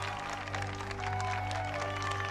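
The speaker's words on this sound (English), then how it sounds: "Notice I'm applauding." A crowd at a school chess tournament claps steadily and loudly, a dense continuous roar of applause with no pauses.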